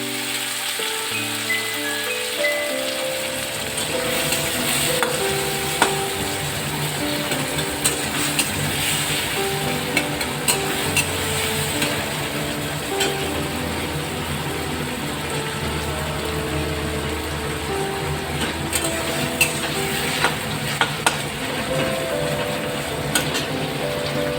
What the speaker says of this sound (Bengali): রসুনটা একটু হালকা ভাজা হলেই বাকি মশলাগুলো দিয়ে দেব